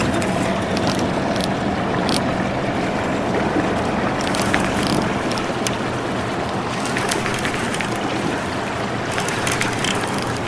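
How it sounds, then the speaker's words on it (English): An outboard boat motor runs steadily while a boat holds against heavy river current below Wheeler Dam during catfishing. Its drone is continuous and fairly loud, mixed with rushing water and wind buffeting, with no talk. "I'm gonna have to put my motor in gear because I believe he's gonna pull me back."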